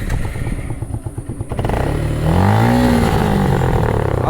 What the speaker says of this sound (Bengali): সুজুকি মনোটন বাইকটার আওয়াজটা, সাইলেন্সারের আওয়াজটা একটু দেখুন